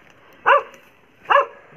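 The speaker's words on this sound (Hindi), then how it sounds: "ताऊजी का कुत्ता जो कि भौंकता बहुत है" A village dog barks twice, two sharp separated barks close by, with quiet background and no talk.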